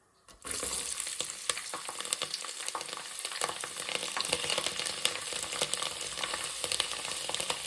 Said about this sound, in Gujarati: તો આપણું તેલ આવી ગયું છે એટલે આપણે એમાં નાખી દઈશું હિંગ